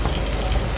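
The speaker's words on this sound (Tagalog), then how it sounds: "Ayan po, tayo ay gigisa na ng bawang." Garlic sautéing in a hot frying pan already used for frying fish, a loud, steady close sizzle throughout the short burst.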